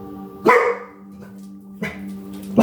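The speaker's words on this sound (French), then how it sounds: "t'entends un petit chien aboyer" A small dog barks twice, sharp and fairly close, about a second apart, over a steady low electrical hum with no one talking.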